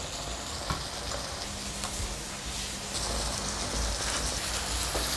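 Eggplant and tofu braise sizzling hard over high heat as the liquid boils off, a steady close crackle and hiss with small pops throughout.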